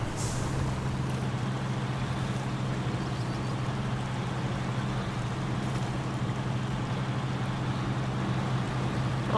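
A Detroit diesel engine in a GMC Brigadier truck hauling long logs in Maine, running as a steady, loud low drone with a constant hum throughout.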